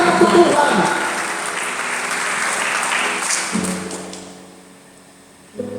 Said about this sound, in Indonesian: Kurang keras tepuk tangannya